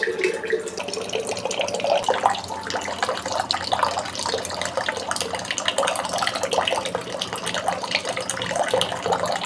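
Tap water pours steadily into a nearly full metal pot in a small home kitchen, a continuous close splashing gush with no speech over it.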